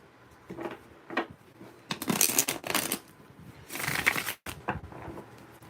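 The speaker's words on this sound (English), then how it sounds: "I want to shuffle these a little more." Tarot cards being shuffled by hand in bursts of riffling and flicking, close and fairly loud, with short pauses between rounds and no talk.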